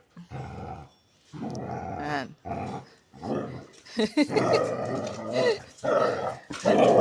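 Two dogs growl and snarl at each other in rough play-biting, close by and loud, in bursts broken by short pauses, with a person's voice talking now and then.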